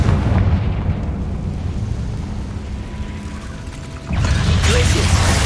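Confringo fire spell in Hogwarts Legacy, a deep rumbling blast with a loud burst near the end, set over a low mechanical background with no clear talk.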